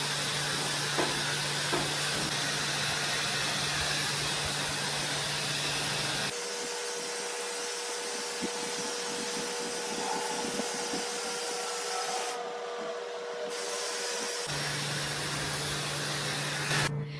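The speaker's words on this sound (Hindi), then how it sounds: "आई थिंक मेरे को सबसे पहले अपना बाल सुखाना है" A handheld hair dryer blows on hair at home, giving a steady, close whooshing roar that shifts to a different pitch about a third of the way through and later returns to its first setting, with no voices.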